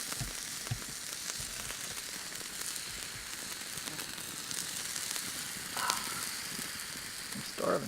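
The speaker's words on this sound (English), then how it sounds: "Sausages are coming along nicely." Sausages sizzling in a pan over an outdoor campfire, a steady hissing crackle that runs throughout at moderate level, with a few louder pops and spits near the end.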